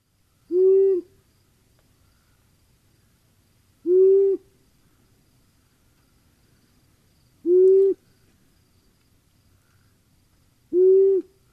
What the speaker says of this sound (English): the simplest owl call on the planet, a male long-eared owl